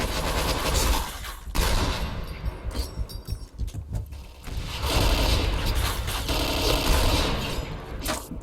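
AUG rifle gunfire in the online shooter Point Blank, bursts of rapid automatic shots loud and close amid dense game noise, with a brief lull in the middle before firing resumes.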